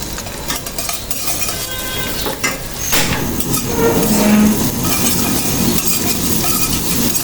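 Cardamom and cinnamon fry in ghee for zarda semai, a loud continuous sizzle with a spoon scraping and stirring the pan, close up and growing fuller partway through.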